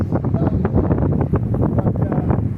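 Wind gusting across a disc golf course, buffeting the microphone in a constant rough, blustery roar with no voices.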